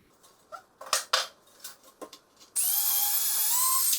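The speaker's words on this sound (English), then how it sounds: "I will try to drill some holes so that it goes easier." A power drill boring holes in wood for a homemade monochord, with a few scattered clanks and handling knocks before the motor whines up steadily and continuously near the microphone.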